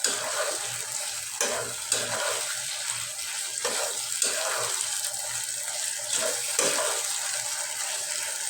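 Rice being stir-fried in a pan for teheri, a steady hiss and scraping sizzle with repeated spatula strokes, close and continuous, with no one speaking.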